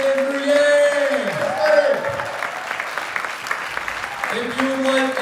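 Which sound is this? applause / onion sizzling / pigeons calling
applause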